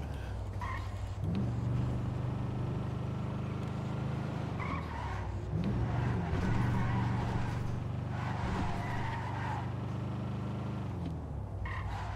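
A car engine revs and drones in a video game, with tire squeal and skidding, a sustained loud hum rising and falling over about twelve seconds.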